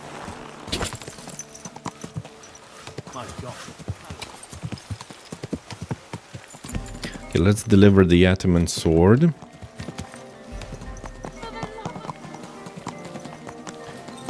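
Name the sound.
horse hooves and neighing in video game Kingdom Come Deliverance 2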